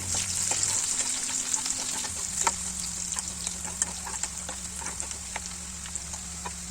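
Finely chopped onion frying in a pan for egg dum biryani while a spoon stirs it, a constant hiss of frying with small crackles and soft scraping, close and steady with no voices.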